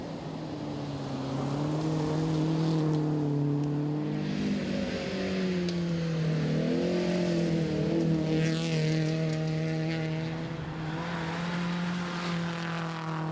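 A rally car driving to the finish at the Rallye Défi, its engine droning loud and steady with pitch rising and falling through gear changes, holding close for the whole stretch.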